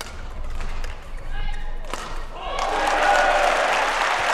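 Large crowd at a 2014 French International badminton mixed doubles semi-final, a broad roar of cheering and clapping swelling loud and steady in the second half, with thumps and voices over a busy hall ambience before.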